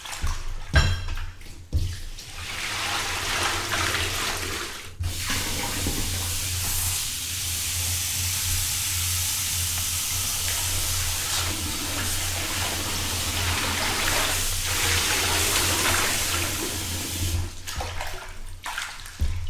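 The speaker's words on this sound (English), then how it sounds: "So this will be real laundry now when I'm washing the leaves, and it will require several cycles." Running water splashing steadily into a bowl or sink as leafy greens are washed, a loud close hiss with brief breaks and shifts in flow.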